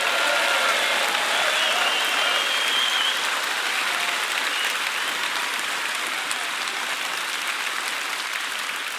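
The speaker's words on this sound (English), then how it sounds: "Give Richard a round of applause" A crowd at a political party gathering gives a loud, steady round of applause that holds at an even level throughout, with no talking over it.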